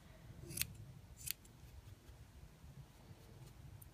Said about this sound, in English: You basically just trim it into the shape you need.